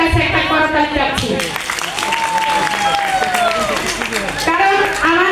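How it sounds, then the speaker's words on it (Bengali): Audience applause fills a hall, a dense continuous patter of many hands, with voices and other sounds carrying over it. "আমি আমার হাজবেন্ডের জন্য আপনাদের প্রত্যেকের কাছে একটা করতালি চাচ্ছি।"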